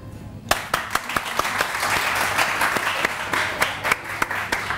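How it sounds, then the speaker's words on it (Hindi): Studio audience applause on a Pakistani morning talk show: a dense wash of many hands clapping, steady and moderately loud for several seconds, with a few sharper nearby claps standing out. "आप लोग तालियां जरा एनर्जी वाली बजाइए।"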